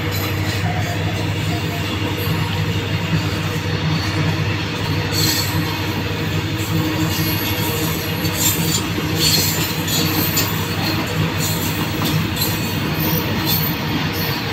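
A diesel locomotive hauls an Indian goods train past at around 70, the heavy rumble of wagons steady and loud throughout, with wheel squeal and metallic clatter rising over the continuous roar.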